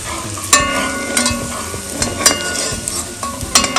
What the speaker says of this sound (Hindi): कश्मीरी लाल मिर्च जो हमने रखा था वो इसमें कलर के लिए हम डाल लेते हैं। हल्का सा इसको फ्राई करते हैं।